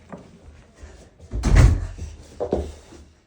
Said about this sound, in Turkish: Şimdi ben kapıyı kapatıp geliyorum.